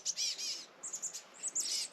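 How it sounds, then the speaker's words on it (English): Several small birds near an Oregon lake chirp and sing in quick bright bursts, close and clear, repeated over a quiet background with no talking. "all of a sudden all these little birds came over"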